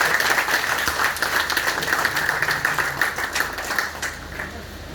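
Students clap together at a coaching academy in Hazaribagh, a dense, steady burst of applause filling the room for the whole stretch before tapering slightly near the end.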